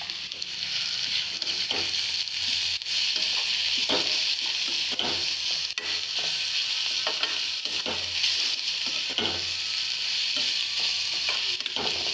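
Broad bean curry with coriander powder and masala powder fries loudly in a pan, a constant dense sizzle under repeated stirring scrapes and soft taps of the spoon against the pan.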